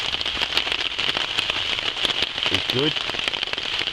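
Heavy, steady rain drums on a shelter overnight, a dense continuous patter that goes on throughout, with someone speaking briefly beneath it.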